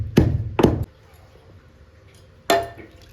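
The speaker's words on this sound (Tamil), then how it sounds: "பூண்டையும் நல்லா இடித்து எடுத்துக்கலாம்." Garlic pounded for rasam, with three sharp thuds, two in quick succession and then one more after a pause, each a short, hard knock with a slight clink, close by and fairly loud.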